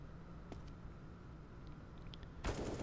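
A single Five-seven pistol shot in the Counter-Strike video game, one sharp crack near the end after faint quiet ambience and small clicks.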